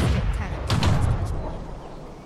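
Booming tank cannon fire from World of Tanks, a dense rumbling volley of heavy shots with thudding low end that fades out toward the end, no talk over it.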